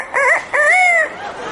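A parrot mimics a rooster's crow with two close, loud, harmonic calls: a short one and then a longer, drawn-out one. No other sound stands out.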